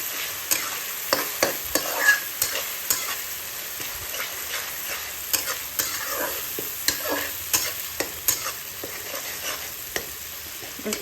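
Green chilies and a paste of small onions sizzle steadily in a pan for a Dahi Chicken recipe, with a spoon scraping and stirring in repeated clicks over the continuous fry.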